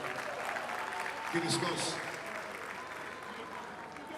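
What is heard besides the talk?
audience applause for Gbenga Adeyinka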